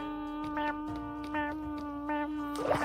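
A voice imitates a cat's meow over and over, three rising-and-falling mewing calls at an even pace, close and clear over a steady background hum, with a short noisy rustle at the end.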